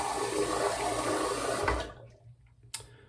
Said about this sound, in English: We can actually add some more water to this.